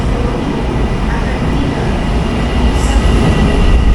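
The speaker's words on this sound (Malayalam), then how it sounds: "ഇവിടെ മെട്രോ വരുന്നുണ്ട് കേട്ടോ." A metro train pulls into a Kuala Lumpur station with a loud, continuous rumble and wheel roar that fills the whole stretch and swells slightly toward the end, with no talk over it.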